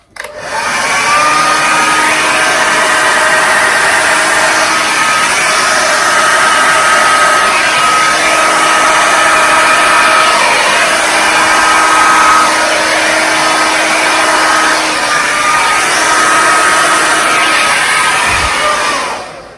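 A hair dryer blows steadily and loudly at close range across acrylic paint in a Dutch pour, a continuous whirring roar with a faint shifting whine and no speech.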